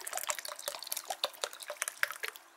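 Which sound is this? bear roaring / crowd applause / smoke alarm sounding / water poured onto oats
water poured onto oats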